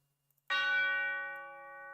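A single bright bell strike rings out sharply after near silence, its clear metallic tone sustaining and slowly fading across the rest of the moment.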